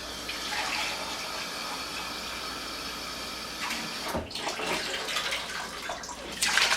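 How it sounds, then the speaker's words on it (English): Water gushes steadily into a soup pot while hamburger stroganoff soup is made, a continuous bright splashing stream with a louder surge of pouring near the end, and no talk over it. "I'm going to keep adding the water and the base."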